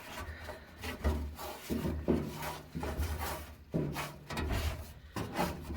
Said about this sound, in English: I'm going to clean that corner out a little bit.